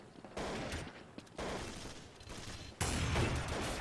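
Bursts of FAMAS fire during a CS Promod match between Fnatic and Reason. Three dense volleys of shots come one after another, each louder than the last, the final burst the loudest.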